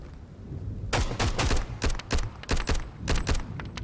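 Rifle gunfire from an AK in the survival shooter Road to Vostok: a string of loud, sharp shots in uneven bursts over about three seconds, close and alone without talk.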